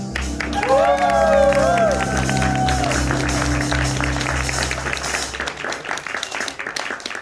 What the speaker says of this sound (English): please give a warm round of applause for Yami and the hostesses